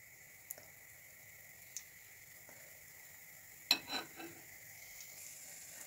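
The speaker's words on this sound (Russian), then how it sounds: "И будем жарить наши оладушки." Kefir pancake batter fries in sunflower oil in a pan, giving a faint, steady sizzle with a few soft ticks and a brief louder crackle partway through, close but quiet.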